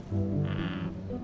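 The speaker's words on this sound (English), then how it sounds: "is this a new frog?" A new frog croaks in the video game Sword of the Sea, a short, steady tonal call lasting about a second over the game's ambient music.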